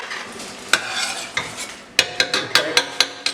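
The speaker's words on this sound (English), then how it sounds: "So give that a mix round." Chicken dhansak curry is stirred in a pan, with close, sharp utensil scrapes and clacks coming in a quick rhythmic run over a steady sizzle, loud and near, with no talking.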